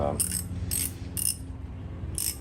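An old, rusty, low-cost ratchet socket wrench with a plastic end piece, giving four quick bursts of sharp mechanical clicking at a steady rhythm, close up with no talking.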